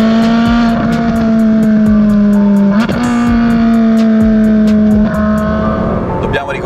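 Ferrari 458 Speciale's naturally aspirated V8 revs loud and close, a strong steady drone that climbs, dips with gear changes, then surges again, with tire noise and a faint voice underneath.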